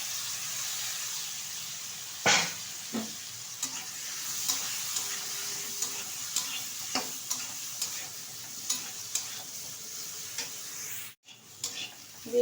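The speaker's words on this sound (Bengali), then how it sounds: "এখন তেলের মধ্যে ছেড়ে ভেজে নেব।" Small pieces of eggplant fry in hot oil with turmeric, a continuous bright sizzle broken by repeated spoon-stirring clinks and scrapes, close and alone without talk.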